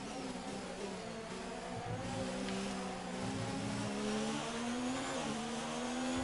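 An Alfa Romeo race car in F1 2019 at the Japanese Grand Prix: a high engine whine rising steadily in pitch as the car passes, faint and sustained with no other sounds.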